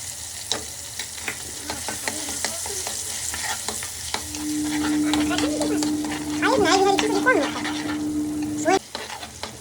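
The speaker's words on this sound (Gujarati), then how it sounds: "અને લસણ અને ટમેટા નાખી દીધા છે. મસ્ત મસ્ત હલાવી નાખો." Garlic and tomatoes sizzling in a pan while being stirred, with steady frying hiss and scraping spoon strokes that grow busier midway, plus a faint voice-like tone in the background.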